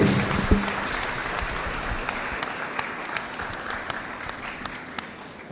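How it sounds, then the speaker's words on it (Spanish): Audience applause opening a talk at a cultural centre, a steady wash of many hands clapping at moderate distance, sustained for several seconds and slowly tapering, with no voices over it. "Por favor, les pido un fuerte aplauso para dar inicio a esta charla."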